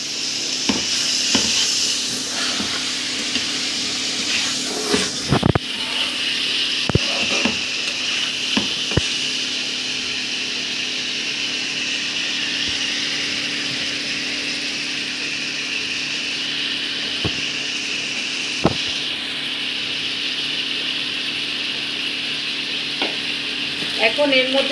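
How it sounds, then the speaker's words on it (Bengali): Instant Maggi noodles frying with green chilies in a pan, giving a loud, continuous sizzle with occasional scraping stirs and sharp utensil knocks throughout. "কিছু কাঁচামরিচ এর মধ্যে দিয়ে দিলাম, আর কিছু কাঁচামরিচ দেবো শেষ ফিনিশিংয়ে। ততক্ষণ এটা একটু ভাজা হোক"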